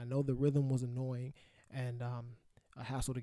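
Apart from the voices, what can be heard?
No distinct noise like a dog, phone or traffic.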